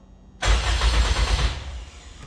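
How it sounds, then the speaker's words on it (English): A car engine cranks and catches through a push-button start, bursting in loud and close, then settling into a steady idle with no talk over it. "We're gonna give it a test to see if it turns on, like if the starter kicks on"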